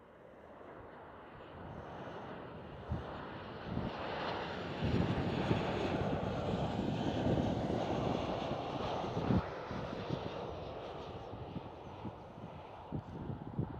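An airliner at Schiphol airport in Amsterdam, a broad engine roar that swells over several seconds and then slowly eases, heard from a spotting position with some wind buffeting the microphone and no voices.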